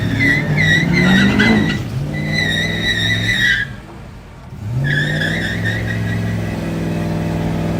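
A truck engine revs hard at a truck event, loud and close, working the transmission hot: a sustained rising harmonic roar that dips briefly midway, then climbs back and holds steady.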